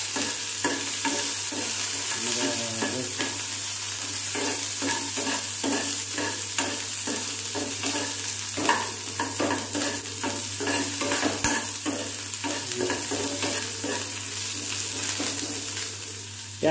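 Onions frying in a pan while being stirred, a continuous close sizzle with frequent scraping and clattering strokes of the spoon in a loose, busy rhythm, without talk.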